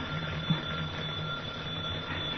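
A telephone rings as a sound effect in a 1948 radio drama, a steady, fairly loud buzzing ring that carries on unbroken with no voices over it.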